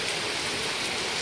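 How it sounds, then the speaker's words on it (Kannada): Heavy rain pours down in a steady, dense hiss, a continuous wash of close, even noise with no breaks and no voices. "ತುಂಬ ಜೋರು ಮಳೆ ಬರ್ತಾ ಉಂಟು."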